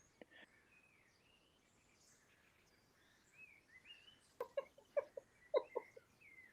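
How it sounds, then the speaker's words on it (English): Birds call in a low-visibility outdoor setting: a faint background bed at first, then a run of sharp, close chirps clustered in the second half of the clip. "we're back with the shitty birds"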